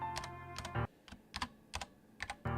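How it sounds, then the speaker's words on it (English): Typing on a computer keyboard in quick bursts of close, crisp keystrokes separated by short pauses, heard alone without any voices. "I hear me typing."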